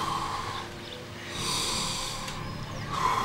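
Heavy, labored wheezing breaths from someone in an asthma attack, long rasping inhales and exhales that swell and fade in slow cycles, close and fairly loud.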